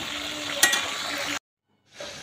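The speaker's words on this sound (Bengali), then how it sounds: "মুরগিটা আমার তাড়াতাড়ি ভাজতে হবে" Chicken pieces frying in a pan of hot oil, a steady loud sizzle that flares briefly, cuts to silence, then resumes.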